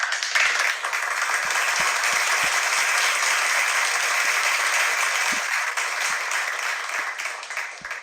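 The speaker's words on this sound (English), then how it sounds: "We have applause." Sustained audience applause following a spoken-word poetry reading by a Tanzanian poet at a poetry and music night, a dense steady wash of many clapping hands that holds for the whole stretch and thins slightly toward the end.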